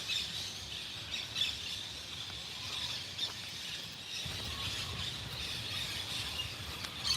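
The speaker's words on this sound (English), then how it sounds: "Remember we heard these birds last week?" Birds chirp and twitter faintly in the distance near a tree at the beach over a constant outdoor hiss, with scattered calls throughout and no talking.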